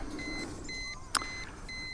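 A vehicle alarm chirps in repeated steady electronic beeps at a regular rhythm, fairly faint, with a brief click partway through.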